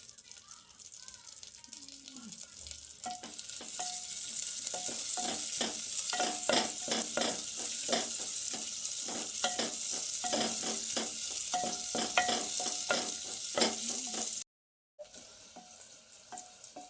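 Curry leaves and onions fry in a pan for a Rayalaseema brinjal curry, a steady close sizzle broken by repeated scraping stir strokes, with a short drop to silence near the end.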